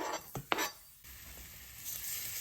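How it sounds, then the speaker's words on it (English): Sliced garlic from three cloves drops into olive oil in a pan over medium-low heat, with a couple of brief stirring clatters first, then a steady soft sizzle that continues on its own. "And now I'm gonna add 3 cloves of sliced garlic."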